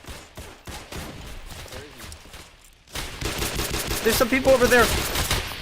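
Sniper and rapid gunfire in a Roblox shooter game, bursts of shots that start sparse and grow into dense, loud volleys, with someone talking over the shooting.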